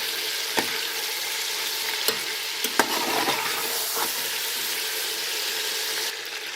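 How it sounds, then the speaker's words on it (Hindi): Pieces from a kilo of chicken fry steadily in hot oil, a dense, even sizzle with a few sharp clicks of a spoon stirring the pan. "अब हम इसको 8-10 मिनट के हम ऑयल में फ्राई करेंगे ताकि जो चिकन की स्मेल है वो ख़त्म हो जाए।"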